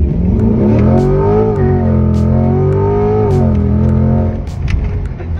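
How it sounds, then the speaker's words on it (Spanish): Corvette C8 supercar doing a launch control start and 0–100 acceleration, a loud, continuous engine roar climbing steadily in pitch through the gears, then easing off near the end. "Y ahora la sorpresa, que es el Launch Control y el 0 a 100."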